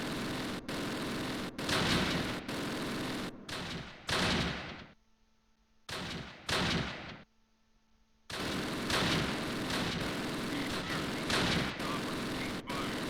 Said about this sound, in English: I'd like this guy to just plain stop shooting at me